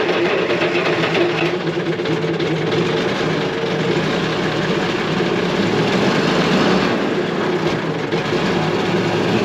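A Volvo F7 truck engine fitted with an Eminox exhaust runs steadily, giving a loud, continuous low rumble and broadband roar that holds without obvious changes for several seconds.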